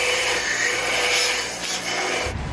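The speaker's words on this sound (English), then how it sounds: "I'm just grinding a drill." A steady, harsh grinding hiss of a drill bit on a spinning grinding wheel runs for a couple of seconds, then cuts off abruptly near the end.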